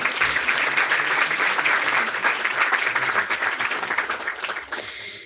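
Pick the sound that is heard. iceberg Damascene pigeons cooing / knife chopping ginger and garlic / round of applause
round of applause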